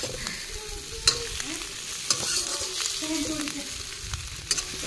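Tadka tempering sizzles and fries in a pan over an open fire outdoors, a steady crackle punctuated by sharp stirring clinks and scrapes, fairly close, with no voices.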